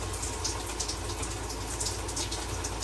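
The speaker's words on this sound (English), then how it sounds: "there's my blast of cold water" Cold water runs from an RV shower in a steady, loud, hissing spray that splashes without a break, with no voices.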